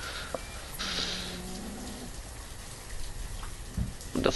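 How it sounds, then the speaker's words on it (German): Rain falls in the city-building game Banished, a soft continuous patter with a few faint animal or bird calls and scattered small knocks over the top. "Hier regnet es auch mehr als sonst was."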